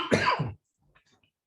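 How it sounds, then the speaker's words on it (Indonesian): A single short cough, close and fairly loud, followed by near silence and a brief faint sound at the end. "Maaf ini saya beberapa hari batuk."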